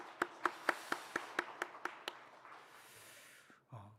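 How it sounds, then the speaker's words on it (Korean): Congregation in a church service gives a round of thankful applause: about nine distinct, evenly spaced claps ring out, then a softer wash of scattered clapping fades away before a brief thump at the end. "우리 수고한 모든 이들을 위해서 다시 한번 감사의 박수 한번 하겠습니다"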